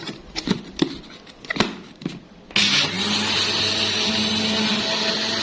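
A few sharp knocks and clatters, then a blender starts up and runs steadily with a loud whirring roar, mixing sugar and powdered milk.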